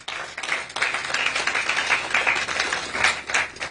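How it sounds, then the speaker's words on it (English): An audience at a Lagos press conference for Nigerians in the diaspora claps steadily to welcome a speaker, a dense, even patter of applause throughout with no voices. "Welcome with a resounding applause, engineer Mrs."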